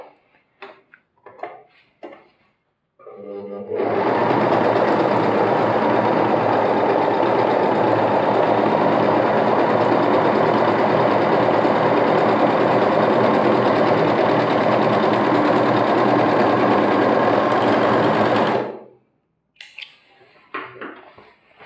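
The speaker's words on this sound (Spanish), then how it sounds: "Bueno, empezamos a remallar." Overlock serger machine stitching and trimming the seam of a pair of trousers, a loud, close, continuous rattling hum running steadily for about fifteen seconds, with brief clicks and handling before and after.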